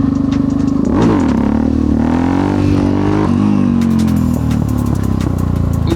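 A Yamaha XT660X single-cylinder motorcycle pulls a wheelie, its engine droning loud and steady up close as it accelerates, with gear-whine rising and wind buffeting, no talking.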